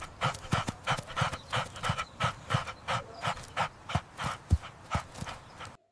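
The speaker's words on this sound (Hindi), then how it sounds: "बच्चों देखो, ये डॉग है।" A dog pants rapidly and steadily at close range, a rhythmic run of quick breathy huffs with no other sounds.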